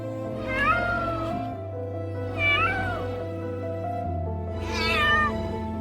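A cat being rescued with a rope meows three times, loud and close, each call drawn out and plaintive, with a low steady hum beneath.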